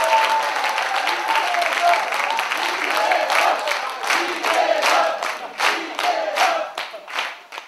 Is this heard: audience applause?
yes